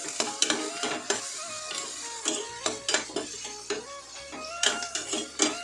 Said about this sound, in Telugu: ఆనియన్స్ త్వరగానే ఫ్రై అయిపోతాయండి ఇలా పది మందిలో కలుపుతూ ఉన్నాను